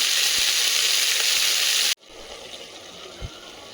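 Kuzhambu for Pongal cooking in a pot, a loud steady sizzling hiss up close that cuts off abruptly halfway, leaving a faint low bubbling simmer with one soft knock.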